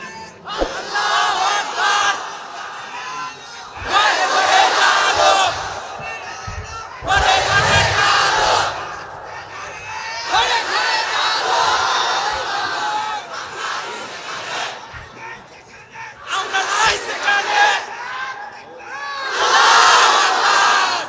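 A large crowd at a Bangladeshi waz mahfil, a religious gathering, roars takbir in repeated loud bursts of massed shouting, each call rising and falling away with short gaps between them.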